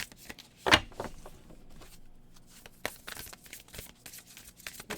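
Tarot cards shuffled by hand at close range, quiet riffles and soft slaps in an irregular rhythm, with one sharper, louder flutter near the start, no voice.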